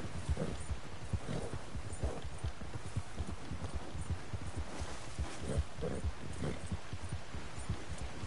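Faint, steady clip-clop of horse hooves on a trail in Red Dead Redemption 2, an even rhythmic gait over quiet ambient noise, with no talking.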